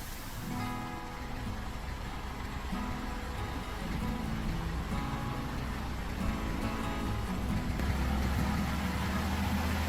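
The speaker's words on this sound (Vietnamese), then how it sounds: "Tiếng xe tải, tiếng bánh xe nghiến lên nền đất" A truck backs up over dirt ground, its engine rumbling steadily at close range with a low idle throughout, and tyres grinding faintly beneath the drone, no voices present.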